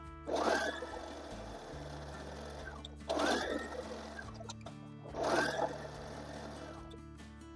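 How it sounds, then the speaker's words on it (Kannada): A sewing machine stitching the half-inch cut edge of fabric for a long gown, heard in three separate short runs of rapid, close mechanical whirring, each separated by a brief pause, with no speech. "ನೀಟಾಗಿ 1/2 ಇಂಚಿಗೆ ಕಟ್ ಮಾಡ್ಕೊಂಡಿರೋದನ್ನ ಸ್ಟಿಚ್ ಮಾಡ್ತಾ"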